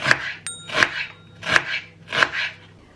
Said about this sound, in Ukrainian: Нарізаю дві цибулі і моркву